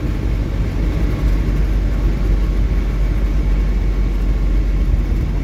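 A failing electric motor in an EV-converted MG Midget gives a steady broadband whirring roar, like vehicle road and drive noise, loud and continuous with no talking.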